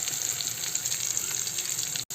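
Ridge gourd peel dropped into hot oil with green chillies, a dense, loud, steady hiss of frying that cuts off abruptly near the end.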